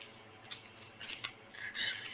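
Scissors snip through paper scraps being trimmed for a scrappy quilt background, several crisp separate cuts in an uneven rhythm, close and fairly quiet, with no talking.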